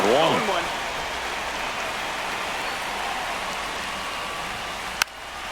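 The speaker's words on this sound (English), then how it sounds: "This rain is not letting up." Steady rain pours down during a baseball game in MLB The Show 25, a constant wash of hiss that carries on alone for several seconds. A brief musical tone rises at the start and a single sharp click lands near the end.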